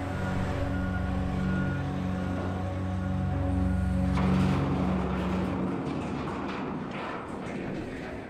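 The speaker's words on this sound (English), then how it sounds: "the time between the last stone hitting a full truck and the first landing in an empty one" A heavy quarry dump truck runs with a loud, steady diesel drone while being loaded with stone, its engine tone shifting midway as the load settles.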